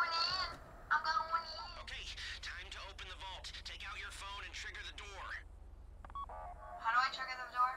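Short electronic phone-dialing beeps come from a handset in GTA 5 Online, with quick tone clusters at the start and end and people talking in between.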